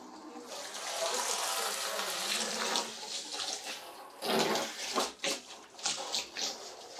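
A garden hose pours water into a 50-gallon food-grade plastic barrel being set up as a chicken waterer. The rush is steady and close for about four seconds, then turns into uneven splashing surges.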